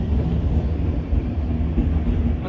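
A passenger train rolls along steadily on the way to Junagadh, with a loud, close, continuous low rumble and faint rhythmic clatter of the wheels throughout, no voices.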